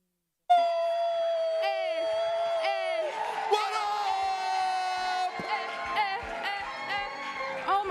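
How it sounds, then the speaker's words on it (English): A gala audience breaks into loud whoops and cheering that swell suddenly after silence, with high, drawn-out shouts layered over one another and some clapping under them. "You're clapping for us? Clap again, clap again."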